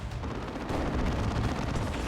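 Assault cannon fire in the Warhammer 40,000 strategy game Dawn of War 2 forms a dense, rapid, rumbling stream of heavy shots, loud and continuous through a brief stretch of battle noise.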